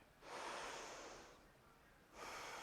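Two long, deep breaths during a home vinyasa yoga flow, a broad airy rush swelling and fading, then another beginning, close and fairly quiet with no talking.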